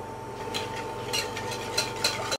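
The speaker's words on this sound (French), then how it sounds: "Au bain-marie, on va mélanger le jus de citron et le sucre." Lemon juice and sugar stirred together in a bowl over a bain-marie, soft scraping strokes of a utensil recurring every half second or so over a steady low hum, close and fairly quiet.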